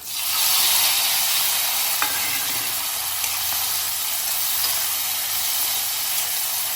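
Tomatoes tip into a hot pan for a homemade tomato kurma and fry with a steady, loud sizzle and hiss that carries on evenly throughout, with a faint clack of contact near the start and no talking.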